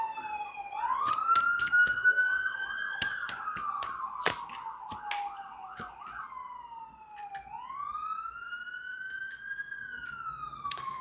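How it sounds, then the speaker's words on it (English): A wailing emergency siren rises and falls continuously in the distance, with a second siren layered in and scattered clicks and thumps nearby. "Sorry for the sirens."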